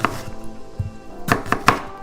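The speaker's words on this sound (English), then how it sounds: "And then I'm gonna thinly slice it." Knife thinly slicing an onion on a cutting board while preparing pepper steak; a few sharp, close cuts land in an uneven rhythm, clustered toward the end, with no talking.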